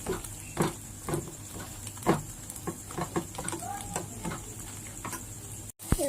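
Food frying in a pan while an egg chicken roll is being made at home: a soft sizzle runs under clinks and scrapes from stirring, with a brief cut near the end.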